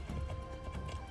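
Horse hooves clip-clopping in the video game Assassin's Creed Shadows, a steady galloping rhythm of close, repeated thuds with a low rumble beneath.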